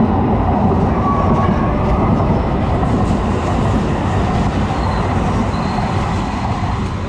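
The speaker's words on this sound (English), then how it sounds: "Get used to the train, because I'm walking by the train track" Train rolling past on a railway track toward downtown, a loud continuous rushing rumble with faint rhythmic clatter of wheels over rail joints, sustained close by and easing slightly near the end, no voices.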